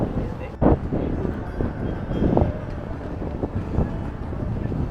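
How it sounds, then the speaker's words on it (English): Gusty wind buffets the microphone outdoors at Castillo de San Felipe in Cartagena on a sunny day, a steady rumbling roar with louder bursts swelling up every second or so, and a voice talks faintly beneath it. "It's windy. Sorry if the sound's off."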